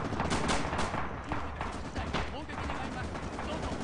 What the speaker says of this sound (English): there are some suppression effects from the heavy machine guns here